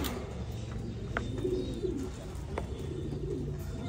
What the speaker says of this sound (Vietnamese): đây là bồ câu gà Mỹ này nha